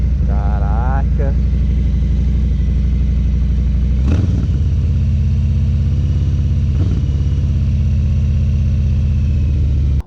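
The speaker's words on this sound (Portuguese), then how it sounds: "Então só a partida já vai ser algo impressionante para você" A Harley-Davidson Low Rider S 1800 motorcycle engine runs close by with a steady low rumble and a couple of blips, while a voice talks briefly at the start.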